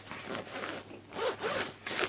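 A zipper on a small satin-lined makeup or toiletries bag pulled open or shut in several close, scratchy bursts, with brief pauses between strokes.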